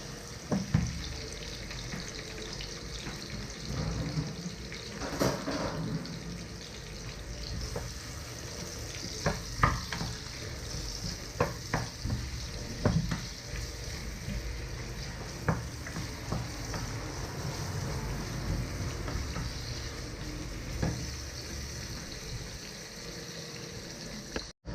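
Onion and garlic sauté in a pan for an Ilocano ginisang gulay with beef, keeping up a quiet continuous sizzle with scattered scrapes and clinks of stirring, close by and without talk.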